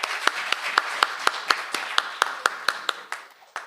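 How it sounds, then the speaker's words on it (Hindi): An audience at an All India Mushaira and Kavi Sammelan poetry recital in a district council hall claps in a steady, evenly spaced rhythm, about fourteen sharp, fairly close claps with a light murmur between them. "एक बार जोरदार तालियां बजाइए।"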